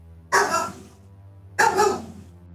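Dogs bark in two loud, separate bursts about a second apart, each one a short cluster of sharp barks standing alone with no talk.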